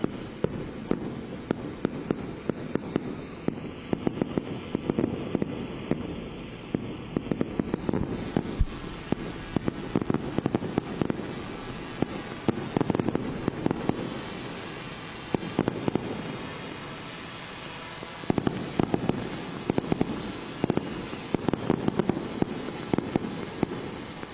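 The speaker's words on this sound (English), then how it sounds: "Fireworks being displayed there." Repeated fireworks at a presidential inauguration eve celebration in Uganda pop and crackle in irregular bursts, some distant booms, with a few whistling rises between the bangs.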